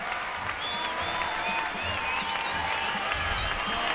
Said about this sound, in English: Taking the applause from the crowd, who have enjoyed themselves tremendously.